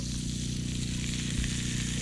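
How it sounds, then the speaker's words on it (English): Vegetables sizzling steadily in melted butter in a cast iron pan over a campfire during cold-weather truck camping, a close, continuous hiss with no talk. "Ooh, listen to it sizzle."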